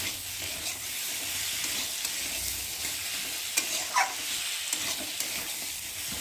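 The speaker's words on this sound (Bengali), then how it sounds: "দিয়ে দেবো অল্প করে লঙ্কার গুঁড়ো দিয়ে একটু ভালো করে নেড়ে নেব।" Spices, chopped tomato and chili powder fried in a pan for a potato, eggplant and small-fish curry, with a continuous close sizzle and occasional scraping clacks of the spoon stirring, no talk.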